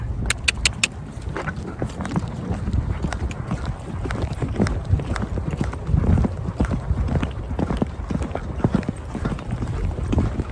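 Horse hooves clip-clop at a slow walking pace during a ride on a farm, a steady close rhythm of hoofbeats with soft voices murmuring faintly in the background.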